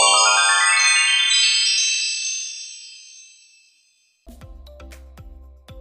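A phone rings with a bright chiming tone that fades away over several seconds, followed by a pattern of short repeated ringing pulses.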